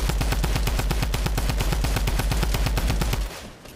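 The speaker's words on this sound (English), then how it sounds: "get ready to shoot the wall" Rapid automatic gunfire in a video game as players shoot at a wall, a loud, dense stream of evenly spaced shots that stops abruptly near the end, with no talking.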